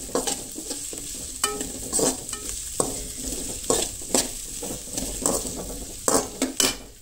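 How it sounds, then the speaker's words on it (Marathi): Garlic and green chilies roasting in a pan, a soft sizzle broken by repeated scraping and clinking stirring strokes, no voices. "सगळ्या ना म्हटल्यार लसूण मिरसांग बी भाजलेली आसा"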